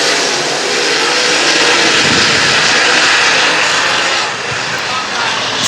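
Super Late Model race cars roar past during a heat race on a racetrack, a loud, continuous broadband engine drone that holds steady throughout with only slight swells.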